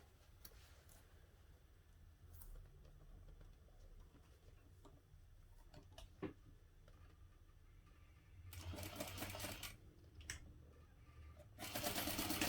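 A sewing machine stitches a backpack seam with 3/8 inch seam allowance, its steady needle ticking quiet and close, rising into louder faster bursts of stitching toward the end.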